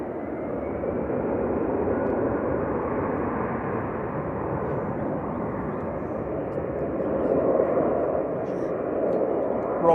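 An EasyJet airliner departing Manchester Airport gives a broad, steady jet roar that swells slightly toward the end, with spotters talking faintly beneath it.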